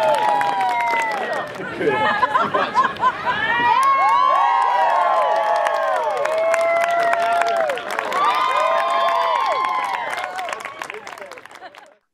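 An audience cheers, whoops and claps for a four-ball juggling act, a loud, sustained crowd roar full of high shouts that swells, dips briefly, then fades away.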